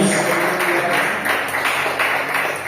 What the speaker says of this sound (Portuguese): dá uma salva de palmas no seu Jesus